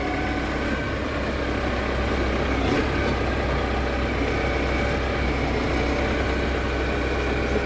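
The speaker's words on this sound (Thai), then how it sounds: "เครื่องยนต์4สูบนะครับ" A four-cylinder engine idles on a JGM rubber-tyred log grabber with a bucket attachment in Phu Khan, Sisaket, Thailand. It makes a steady, close, even rumble that holds for the whole stretch with no voices.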